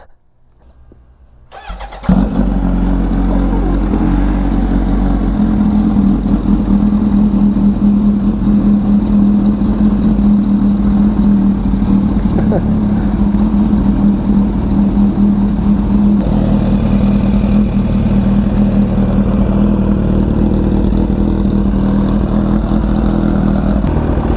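A Kawasaki Ninja H2 fitted with a Vandemon full exhaust system fires up after a brief crank and settles into a loud, steady, deep idle that runs close and alone for over twenty seconds.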